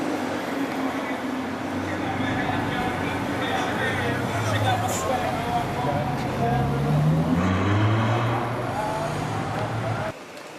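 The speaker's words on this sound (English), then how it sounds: "Some supercars there" Supercars, among them a chrome green Lamborghini Gallardo, drive past on a busy London street, a continuous loud engine and traffic roar with rising and falling exhaust tones that cuts off sharply near the end, with voices in the background.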